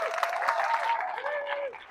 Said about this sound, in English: let's just have one huge round of applause to Three Taverns Brewery